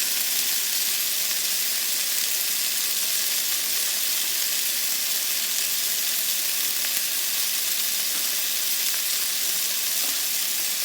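Turkey burgers frying in a pan, a steady close sizzle that runs unbroken throughout with no talking.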